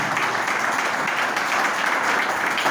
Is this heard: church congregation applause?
yes